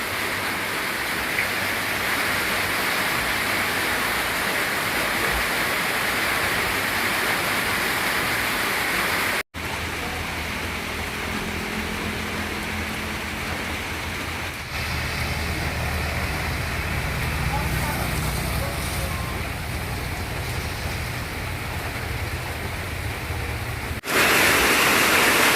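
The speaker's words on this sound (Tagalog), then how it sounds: "Ang lakas ng ulan." A steady, broadband roar of heavy rain continues throughout, dense and unbroken, with a few brief cuts and faint voices underneath.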